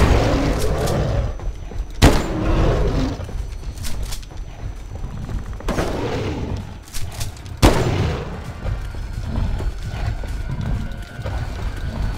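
Repeated gunfire in a Bigfoot video game, loud sharp shots at irregular intervals over dense, continuous game noise.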